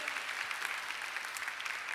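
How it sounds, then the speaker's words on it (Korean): Church congregation at a Thursday youth worship gathering clapping in praise, a soft, distant patter of many hands that holds steady throughout. "여러분 주님께 영광의 박수 한번 올려드리지 않겠습니까?"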